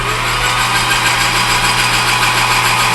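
Lathe spinning at about 800 RPM for hard turning a cheap imported headstock center, giving a steady, loud mechanical hum with a constant low tone and broad whir, unbroken and with no speech.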